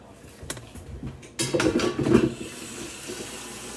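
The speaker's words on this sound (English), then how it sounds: "Let's put the water in here, the cold water." Cold water gushes from a tap into a pot in a home kitchen, a louder rushing burst with a few clinks midway that tapers off, following quieter clatter.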